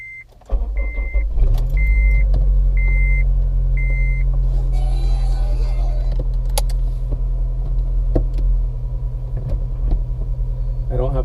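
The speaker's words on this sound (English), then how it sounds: "I'm going to go ahead and start the car." A 2007 Honda Civic Si cold-starts after a few warning chimes, cranking briefly before settling into a steady, loud, low idle rumble that holds close and unbroken.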